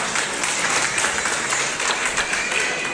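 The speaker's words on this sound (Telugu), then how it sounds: "అమ్మ మీ అందరూ గట్టిగా చప్పట్లు కొట్టి" Crowd at a Ganesh immersion festival auction clapping loudly, a continuous dense patter of many hands, with voices faintly mixed underneath.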